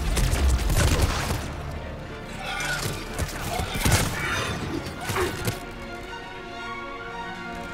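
Enemy gunfire in the sci-fi shooter Mass Effect 3, with irregular thumping shots and impacts through a busy battle mix, some louder bursts early and mid-way, while a player talks over it.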